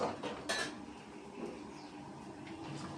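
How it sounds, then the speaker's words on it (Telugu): Hot ragi mudde is scooped into a metal vessel with a few quiet clinks and scrapes of utensils against the pot, then soft, low clatter. "గిన్నెకి తీసేస్తున్నాం"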